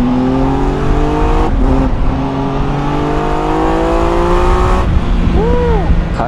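A Triumph Tiger 1200 Alpine motorcycle engine pulls hard, its pitch climbing steadily through gear changes with brief dips, loud and close under constant wind rush and someone talking.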